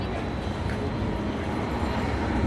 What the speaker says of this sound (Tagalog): may tren dito sa gilid. Tram yata nila to.